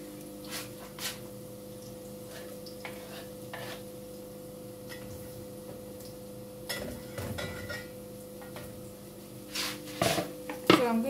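Garlic goes into a pot for a traditional omena silver fish dish, giving a quiet, steady sizzle with scattered utensil clinks and stirring scrapes that grow busier toward the end.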